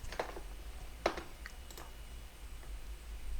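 Computer keyboard keys are pressed in a few sparse, soft clicks, with one sharper tap in the middle. The sound is close but quiet, over faint background noise and without talk.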